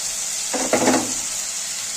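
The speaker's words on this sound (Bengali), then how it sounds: "এবার আমি মশলাগুলো সব দিয়ে দিচ্ছি।" Spices hit tomatoes already frying in hot oil in a pan for a Bengali katla fish curry, setting off a sudden burst of sizzling over a constant background hiss before it settles back down.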